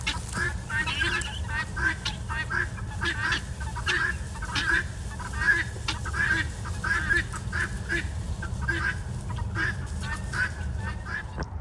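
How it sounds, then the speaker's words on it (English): A flock of ducks or geese honks and quacks in a steady, repeated chorus close by, with a low background rumble beneath the calls. "Bruno, I think the birds are gonna enjoy having Beans up here"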